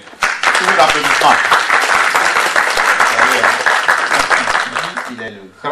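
Sustained audience applause fills a festive community gathering of a women's political union in Paris, dense even clapping from a large crowd lasting several seconds before fading at the end.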